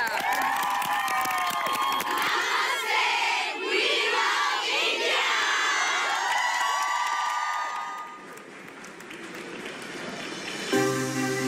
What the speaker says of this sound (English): Huge round of applause for Croatia!